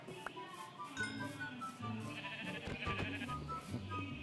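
Sheep bleat in the Minecraft video game: several short, nasal in-game bleats come close together over a busy background of game sounds, fairly loud and near.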